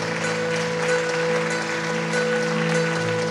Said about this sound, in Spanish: Denle un aplauso a Dios por este país.